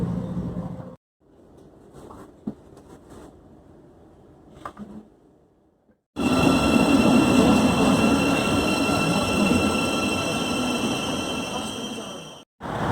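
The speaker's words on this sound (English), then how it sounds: "Little suburban London. And the Thames Link train." A Thameslink commuter train in suburban London rumbles past close by, loud and steady for several seconds with a high metallic whine, after a quieter stretch of faint background sound.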